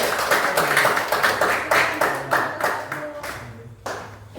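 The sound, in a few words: applause for group 1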